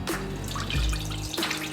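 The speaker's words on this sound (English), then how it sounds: "So we're just gonna pour this in this pot," Marinade for Italian beef is poured into a pot as a close, continuous liquid splash, with a brief heavier gush partway through.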